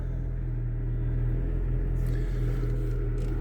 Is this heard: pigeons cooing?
no